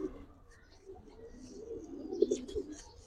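Pigeons in a small cage coo in low, soft, throaty rolls, with a few slightly louder calls near the end, close by and otherwise quiet.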